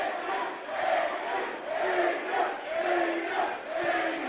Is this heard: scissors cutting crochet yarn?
no